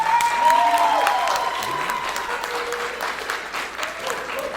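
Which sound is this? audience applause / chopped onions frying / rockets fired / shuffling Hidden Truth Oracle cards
audience applause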